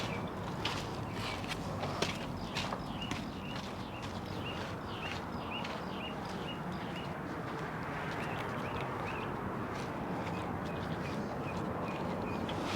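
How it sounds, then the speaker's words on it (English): Birds chirping in the shade of a desert garden near red cliffs, with repeated short, high calls scattered over a steady outdoor background, fairly distant and not loud. "You can hear the bird enjoying the scenery here."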